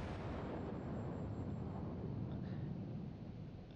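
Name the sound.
naval guns firing in video game World of Warships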